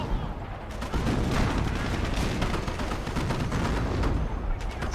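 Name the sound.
artillery fire in video game Company of Heroes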